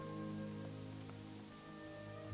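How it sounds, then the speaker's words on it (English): Steady rain falls in the video game Gothic 3, a faint continuous patter under a soft tonal background hum. "Maybe when I wake up, it won't be raining anymore."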